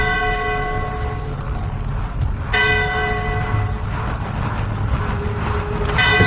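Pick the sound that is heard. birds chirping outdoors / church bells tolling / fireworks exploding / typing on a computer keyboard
church bells tolling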